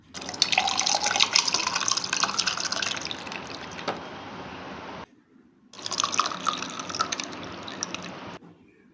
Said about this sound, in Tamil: இப்போ இதை நான் கிளாஸில் மாற்றிக்கிறேன்.